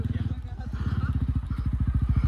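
A TVS Ronin motorcycle on a wild offroad ride near a village, its engine thumping in a steady rapid rhythm, loud and close, with a voice speaking over it.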